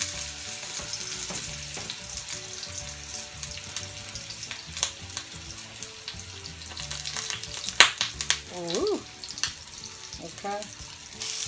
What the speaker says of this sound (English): I got my cast iron skillet, and I'm going to lay my patties down in there